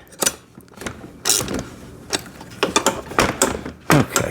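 A ratchet wrench tightens a 12 or 13 millimetre bolt on a battery-powered kids' ride-on motorcycle, giving quick bursts of close, sharp clicking separated by short pauses.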